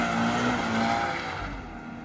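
A sports car held at full throttle on its rev limiter, a loud, steady, buzzing engine note with tire squeal under it, close and continuous throughout.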